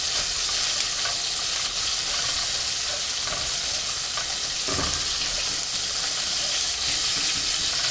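Green pepper and carrots sizzle steadily in a hot pan, with a dense hiss of frying and a soft thump as the vegetables are tossed partway through.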